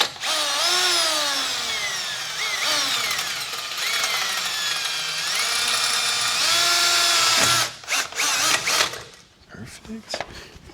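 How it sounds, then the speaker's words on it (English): A power drill bores a hole in a car's wheel-well dust shield. Its motor whines loudly for about seven seconds with shifting pitch, then gives way to brief clattering and handling noises. "now we're gonna get this other hole drilled out"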